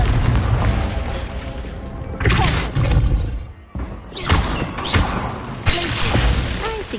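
Confringo blasting spell explosions in the Hogwarts Legacy video game, several loud booming blasts with rumbling tails, separated by brief dips, all close and heavy.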